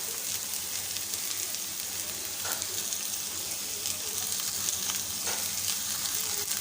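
Onion, capsicum, cabbage and potato sauté in a pan for a parboiled-rice tiffin dish, giving a steady, close crackling sizzle with occasional spatula scrapes and no talking.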